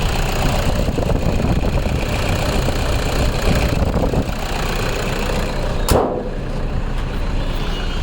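A 2015 Toyota Innova 2.5 V diesel engine idling, a steady close rumbling drone with a faint rhythmic knock, broken by one brief sharp click partway through before the idle continues.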